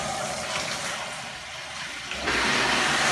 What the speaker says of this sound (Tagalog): ito na po, magre-refill na po tayo ng galon